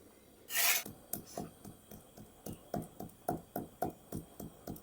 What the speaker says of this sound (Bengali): আমি গরম মশলাটা বেটে নেব